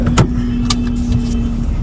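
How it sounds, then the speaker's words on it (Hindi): A car pulling up and parking near a roadside tea stall in Goregaon, with a steady close engine hum, a faint motor whine and a couple of brief clicks, with no talking. "फिलहाल तो यहाँ पे गाड़ी लगा देते हम लोग।"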